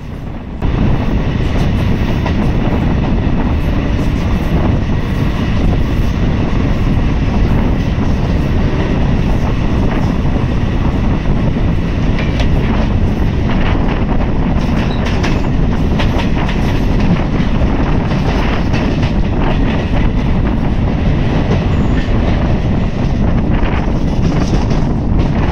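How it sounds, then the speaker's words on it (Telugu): Secunderabad–Vasco da Gama Express train running near Dhone outer, a loud steady rumble of wheels on rails with rhythmic clickety-clack and wind noise, continuous throughout with no talk. "Secunderabad Vasco D gamma express వచ్చేసి డోన్ నుంచి అయితే డిపార్చ్ అవుతుంది"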